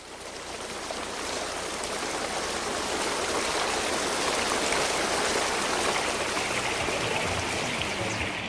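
Thousands of gallons of water rush away as the Red Sea parting attraction drains on the Universal Studios Hollywood tour, a loud, steady gushing roar that builds slightly and holds.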